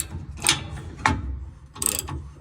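Wrench work on a torsion bar bolt during a leveling kit install on a 2015 GMC Sierra 2500 truck, with a few close metallic ratcheting clicks and clanks separated by short pauses.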